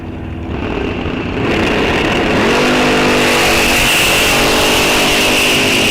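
Pair of drag race cars launching off the line on green lights at Rock Falls Raceway, one a 41 Willys, engines building from a loud idle into a sustained roaring full-throttle pull close by.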